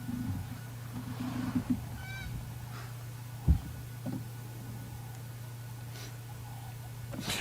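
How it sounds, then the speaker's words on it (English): A bird calls in the unfenced African bush of a transfrontier park during a sunset game drive, a few faint honking notes over a constant low engine drone. "I can hear an interesting bird making a noise."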